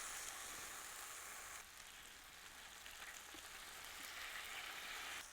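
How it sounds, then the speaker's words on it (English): Bananas caramelizing in brown butter in a pan, a soft, steady sizzle and fine crackle heard quietly on its own. "So when caramelizing bananas, you don't want to move it too much, because you want to give it actual time to get caramelized"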